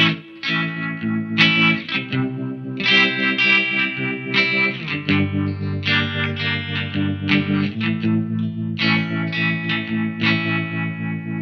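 An electric guitar runs through a SolidGold FX Aurras Optical Vibraphase uni-vibe pedal, strummed chords swirling and throbbing with a choppy, pulsing modulation, loud and close with no voice over it.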